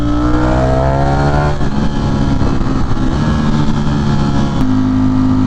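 A Ducati Streetfighter V4 cruises along a highway, its engine a loud, steady, close drone. The pitch shifts a couple of times as the rider changes gear, with wind rush underneath.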